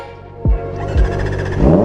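A Kawasaki ZX4RR motorcycle with an upgraded engine sprocket and a short muffler revs hard in three quick rising blips, loud and close, with the engine holding a high, buzzy whine between bursts.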